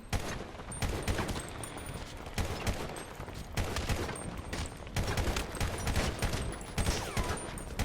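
Dense gunfire in a GTA V zombie war match: rapid, overlapping shots and fusillades crackle continuously and loudly, with no talking.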